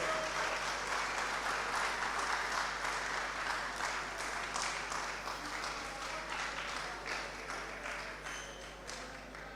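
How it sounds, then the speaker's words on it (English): An audience at the grand finale of a tertiary business competition gives a continuous round of applause to welcome the MC, dense and steady, slowly tapering over the final seconds. "Can't you welcome the MC with a hand of applause?"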